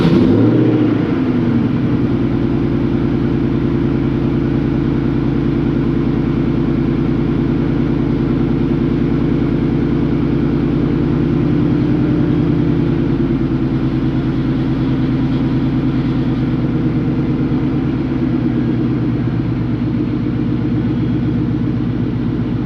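A European car engine, started with a booster pack, runs steadily at close range with a loud, even mid-pitched drone and no talk over it.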